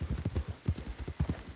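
Horse hooves clip-clop at a steady walking pace in the video game Red Dead Redemption 2, a close, even run of soft paired thuds with no talking over them.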